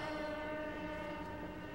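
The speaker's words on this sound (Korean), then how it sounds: "기차역 앞에서 기다려." At a railway station, a train's steady tonal horn-like drone holds over a low rumble, faint and continuous, with no talking.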